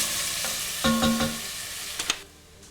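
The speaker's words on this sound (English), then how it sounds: "Cook the onions until they're translucent." Onions seasoned with a pinch of salt and cracked pepper fry in hot oil, a dense, even sizzle with a few louder stirring scrapes near the middle and end.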